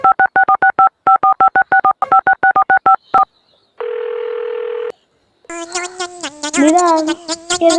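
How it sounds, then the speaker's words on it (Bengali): A telephone keypad beeps out a quick run of dialing tones in short rhythmic groups, then a steady tone sounds for about a second before a brief pause and some muffled voice-like sound. "দেখি জুয়েলে ফোন দেই।"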